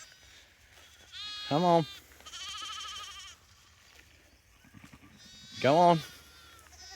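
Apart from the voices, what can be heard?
lambs bleating on a farm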